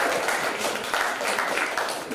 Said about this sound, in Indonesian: Tepuk tangan untuk AI